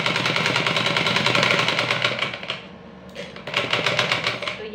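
Sewing machine stitching a blouse seam, a steady close rapid mechanical chatter that briefly slows and pauses near the middle before running again at full speed.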